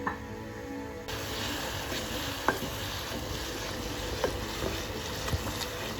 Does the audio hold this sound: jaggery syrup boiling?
yes